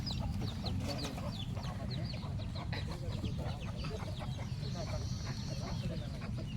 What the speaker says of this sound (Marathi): हे बघा कोंबड्या बघा